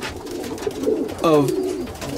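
Pigeons at a pigeon show coo close by, with one clear, loud, throaty coo rising above soft background murmuring and a brief word of talk.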